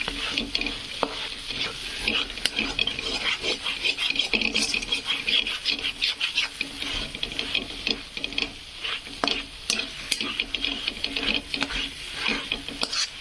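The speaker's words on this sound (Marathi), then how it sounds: "मसाला कुठं कच्चा राहू द्यायचा नाही, छान असा फ्राय करून घ्यायचा" A spice masala for a fish gravy fries and sizzles in a pan while being stirred steadily, with continuous close scraping and crackling and no talking.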